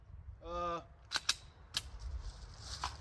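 Sharp, brief cracks from a .410 snubnose shotgun, a couple of close reports in quick succession followed by a softer one, with a voice briefly heard just before.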